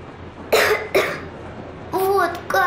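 A girl coughs in the video game Metro Exodus, two sharp coughs close up, followed by her small, breathy voice speaking.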